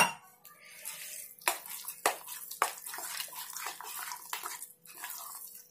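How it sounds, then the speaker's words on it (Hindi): Water trickles and splashes into a bowl of poha and semolina batter amid clinks and scraping of utensils, with a few sharp knocks against the container. "थोड़ा सा हम और ऐड करेंगे पानी"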